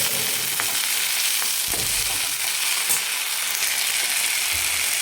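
Chopped purslane (chighal) bhaji fries in a pan with a steady, close sizzle, broken by occasional scraping stirs and a few light knocks of the spoon.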